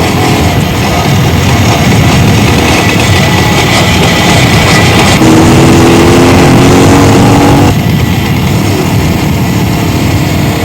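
A motorbike engine runs loud and close, its revs climbing and shifting in pitch as it pulls away, over a dense background of other noise.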